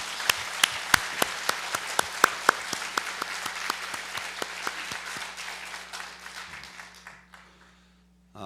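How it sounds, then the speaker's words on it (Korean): A church congregation applauds the choir indoors, a burst of claps that thins out and fades to near silence by the end, over a steady low hum. "우리 찬양대 위에서 다시 한번 힘차게 박수로 격려해"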